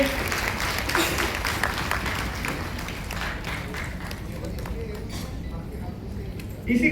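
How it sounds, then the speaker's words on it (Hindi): An audience at a CSC BC Sakhi award ceremony claps in sustained, dense applause for several seconds, while an announcer's voice carries over it. "तालियों से इनका अभिनंदन करेंगे।"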